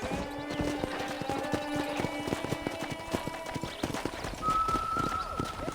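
Steady clip-clop of horse hooves at a walking pace in Red Dead Redemption, near a corral, with game-style ambience and a sustained tone rising in near the end.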